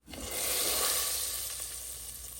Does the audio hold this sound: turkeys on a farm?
no